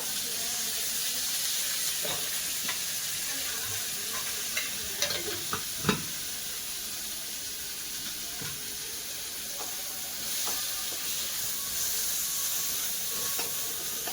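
Oil sizzles steadily in a hot pan while Pandharpur-style bajari amti is being cooked, with a continuous hiss and a few sharp clinks and stirring knocks. No one speaks.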